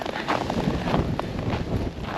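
Strong wind gusts buffet the microphone during a heavy Canadian snowstorm beside a parked Jeep, a steady, loud roaring rumble with no voices.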